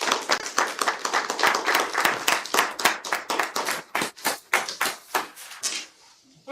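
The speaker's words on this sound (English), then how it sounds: "So let's give Phil and Leslie a round of applause." A modest meeting audience claps after a presentation at an agricultural business program kickoff, a brisk, fairly close patter of hands lasting about five seconds before tapering off into silence.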